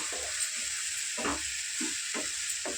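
Tomato fries in oil in a pan for a prawn curry, giving a constant close sizzle broken by a few soft stirring scrapes at regular intervals, with no talking.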